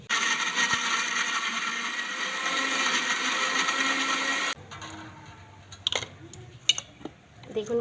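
A kitchen blender grinds cauliflower into a thick paste with only a little water, a loud steady whirring drone that cuts off partway through, followed by quieter clatter and small knocks.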